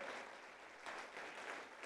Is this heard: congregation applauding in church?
yes